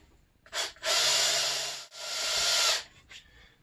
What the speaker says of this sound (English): And pre-drill the other hole.